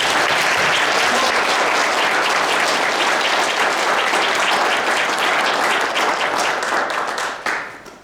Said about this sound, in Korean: 힘차게 한번 박수 한번 부탁드리겠습니다.